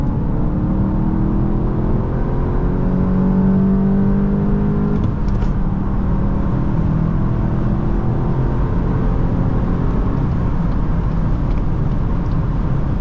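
A 2024 VW Golf GTI 380 SE pulls hard under full acceleration, its engine whirring loud and steady as the pitch climbs through rising revs, with a brief shift partway through.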